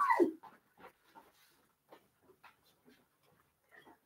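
An Irish dog whimpering and panting nearby, a sharp yelp at the start followed by soft, scattered whines and breaths with quiet pauses between them.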